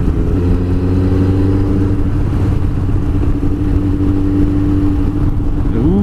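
A Yamaha FZ1 motorcycle engine holds a loud, steady drone from close by, its pitch staying level with only a slight rise near the end.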